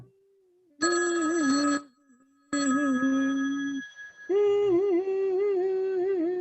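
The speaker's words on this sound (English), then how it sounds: "Well, who's going to answer the telephone?" Telephone bell ringing in a radio play, a steady electric ring sounding in several bursts with short pauses between, close and clear, alone without talk.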